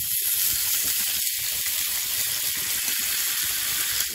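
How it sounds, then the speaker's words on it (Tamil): Chopped tomatoes hit hot oil with fried garlic and salt in a pan for tomato garlic chutney, a steady broadband sizzle flecked with crackles and pops, loud and close throughout, no talking. "நறுக்கி வச்ச தக்காளியை போட்டுடலாம்."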